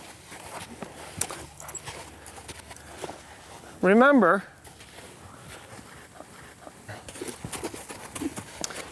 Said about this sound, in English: right here where he starts to jog, I'll slow him down.